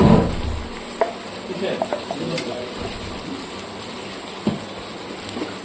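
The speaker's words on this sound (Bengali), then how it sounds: "অ্যাড করে দিচ্ছি পেঁয়াজ আর টমেটো।" Onion, tomato and ginger-garlic-green chilli paste sizzle and fry steadily in a pan, with several sharp stirring scrapes and clicks breaking through the continuous hiss.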